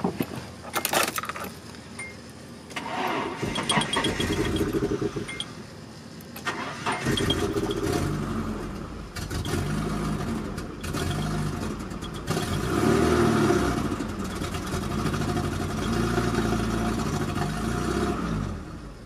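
A car engine cranks and catches after fuel injector work, with keys jangling and rough, uneven running that revs up and down over nearly twenty seconds, loud and close.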